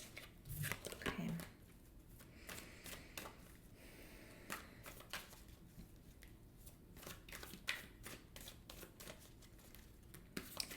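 Tarot cards are shuffled and pulled from the deck with soft riffling and flicking sounds. Quiet, close card handling starts with a brief burst and continues as intermittent light slaps.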